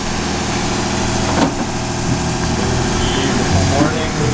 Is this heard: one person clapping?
no